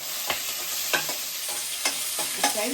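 Garlic cloves fry in a pan with a soft, steady sizzle, broken by four distinct scraping stirs of a spoon at roughly even intervals, close up and without talk.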